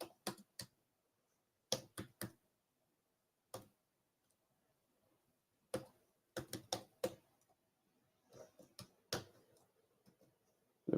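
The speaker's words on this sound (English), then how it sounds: "I'm going to have to do it by literally just typing it in letter by letter." Keys on a computer keyboard are tapped one letter at a time in irregular clusters of sharp clicks, with quiet pauses between bursts and no talking.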